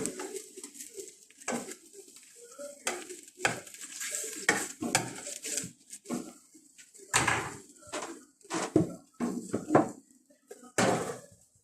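Chicken pieces are turned over in a pan while cooking Arabic food, with scraping utensil clatter, knocks against the pan and a light sizzle, coming in irregular close bursts separated by brief pauses.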